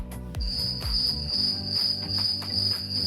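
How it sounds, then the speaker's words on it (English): Crickets chirp in a steady, dense high trill that carries on throughout, with a few low thumps and taps underneath near the start. "Crickets. Yeah, crickets."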